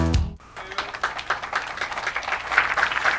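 Studio audience applause on a televised doubles bowling show, starting after a brief musical sting and building into steady, fairly close clapping that lasts about three seconds.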